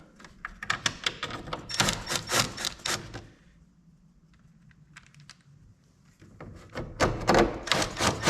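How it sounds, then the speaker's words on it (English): Screws being driven back into a Toro TimeCutter zero-turn mower: close, loud bursts of rapid clicking and rattling, a quieter pause in the middle, then another dense burst at the end. "I'll put these screws back in and that part will be"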